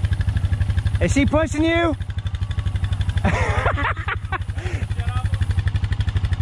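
A Honda dirt bike engine idles steadily with a rhythmic low putter on a forest trail, running throughout close by while people talk over it.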